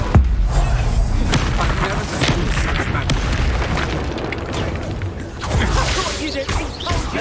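Confringo blasting spell explodes amid a Hogwarts Legacy duel, a dense run of loud booms and whooshing bursts from other spells, with voices shouting incantations throughout.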